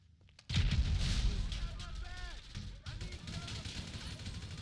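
Grenade explosion and gunfire in the GTA 5 mission Meltdown: a sudden heavy blast after a quiet start, followed by a rumbling tail with scattered shots and shouting voices over it.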